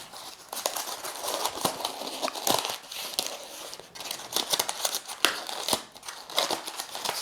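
Protective paper crinkles and rustles as it is unwrapped from a small gift box holding a SmallRig multi-tool, with close, irregular crackles and sharp crisp bursts.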